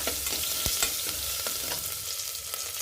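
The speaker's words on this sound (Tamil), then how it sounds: "கடுகு பொரிஞ்சதுக்கப்புறம் வரமிளகாய், சின்ன வெங்காயம், கருவேப்பிலை, பெருங்காயத்தூள், மஞ்சத்தூள், வெங்காயம் நல்லா வதங்கட்டுங்க." Steady crackling sizzle of onions frying in a pan with curry leaves, asafoetida and turmeric, with occasional scraping stirs, close and continuous, no talking.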